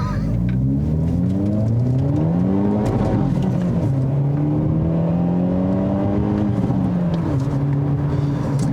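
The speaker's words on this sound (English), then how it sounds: "So now we are driving the ultimate Elantra. This is the Elantra N, the full-on N version of this car." A 2022 Hyundai Elantra N turbo sport compact sedan drives with a loud, close engine drone whose pitch rises and falls through repeated gear changes as it accelerates. No voices are heard.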